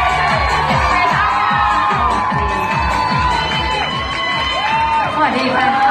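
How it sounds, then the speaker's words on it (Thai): An event audience cheers and shouts in welcome for the chairman, loud, dense crowd noise with whoops and voices that carries steadily throughout without a break. "ขอเสียงปรบมือต้อนรับท่านประธานของเราค่ะ"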